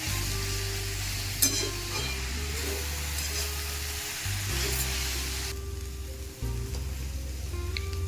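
Bottle gourd curry with lentil dumplings sizzling steadily in a pan while being stirred, a continuous frying hiss with soft scraping, no talk.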